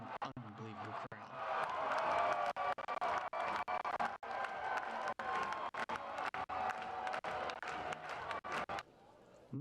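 A loud baseball crowd at Blaisdell Park roars and cheers continuously after a walk-off walk, with clapping and shouting, and a broadcaster's voice running over the din throughout.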